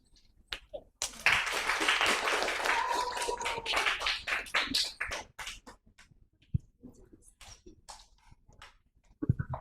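An audience claps after the opening speech of a school debate, a burst of applause that swells, holds for a few seconds, then thins into scattered claps and trails off.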